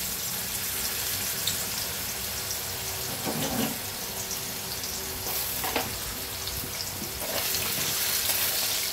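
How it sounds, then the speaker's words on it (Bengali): Potatoes fry in hot oil with a loud, steady, close sizzle that runs throughout, broken now and then by brief scrapes of stirring. "প্রথমে আমি তেলটা গরম হয়ে গেছে, তেলের ওপর আলু দিয়ে দেবো।"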